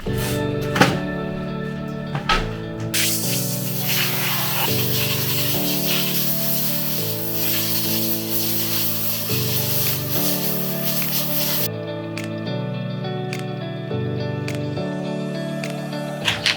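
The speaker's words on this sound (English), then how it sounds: "I said I wasn't going to use rattle can primer" A rattle can of primer sprays onto curbed BMW M3 wheels in one long, loud hissing burst lasting several seconds, heard over background music without speech.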